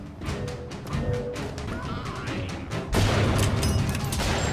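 Gunfire from enemy soldiers in BioShock Infinite combat, a dense, continuous clatter of shots and booms that grows louder and fuller partway through, with no clear speech over it.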